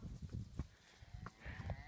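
Cows and other livestock on a farm in the Brazilian countryside, giving a few low, short calls close by against a steady outdoor background, with no talking.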